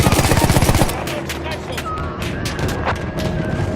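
Battlefield 1 video game gunfire: a rapid, loud automatic burst opens the clip, then scattered shots and explosive booms continue through dense battle noise.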